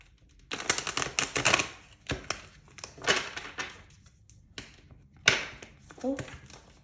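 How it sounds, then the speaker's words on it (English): Tarot cards are shuffled in several quick, crisp riffling bursts separated by short pauses, close by. "I already shuffled, but I'm going to go ahead and we're going to do it again."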